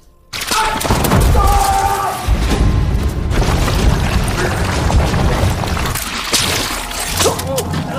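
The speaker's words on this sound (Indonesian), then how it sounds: "Tembakan terdengar dari dalam rumah." Gunfire inside a house in a Thai horror film scene, heavy booming thuds and bursts following one another over several seconds amid loud clattering, mixed with other film sound.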